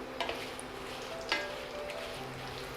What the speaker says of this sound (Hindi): इन तेल रे मायने अपन धीरे धीरे आँच रे मायने मिर्ची ने के पका लेना